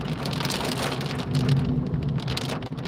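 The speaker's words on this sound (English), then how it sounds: "Now it's raining again." Heavy rain pours down steadily in Walkden, UK, heard during a drive, a dense close hiss of drops hitting surfaces with a low rumbling undertone throughout.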